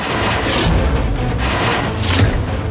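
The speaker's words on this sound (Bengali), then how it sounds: "আর প্রথম গুলি তুই চালিয়েছিলি।" A dense burst of gunfire in a drama scene, loud and close, with booming thuds running continuously for a few seconds.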